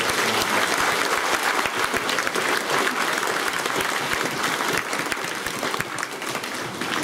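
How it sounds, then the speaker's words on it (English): Audience clapping fills a school celebration assembly, a loud, steady, dense applause that continues throughout and eases slightly near the end. "Let's give these people a big round of applause."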